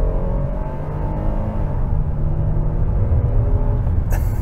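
A 2023 Hyundai Palisade SUV with H-Track all-wheel drive launches in sport mode, its engine giving a steady, loud, low rumbling drone that rises through acceleration, heard close from inside the cabin with no talk.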